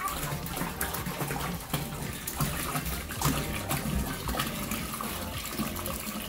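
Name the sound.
fresh water being poured into aquarium bucket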